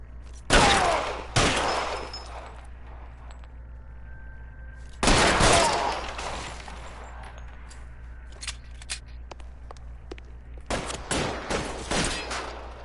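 Gunfire in the video game L.A. Noire, loud sharp shots in separated bursts, two early blasts, another heavy one at mid-point, then a scatter of quicker fainter shots toward the end over a low steady hum.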